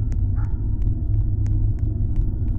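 A low, steady engine rumble of a car rolling past in a video game set in Pripyat, loud and continuous, with faint short ticks and a brief higher whine riding above it.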